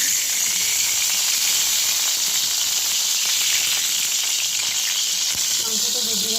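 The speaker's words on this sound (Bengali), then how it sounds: "মাংসটা ভেজে রাখলাম" Meat frying in a pan for a khesari dal dish, a loud, continuous close sizzle and hiss that holds steady throughout with faint stirring underneath.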